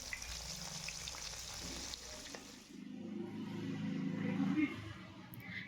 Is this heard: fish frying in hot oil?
yes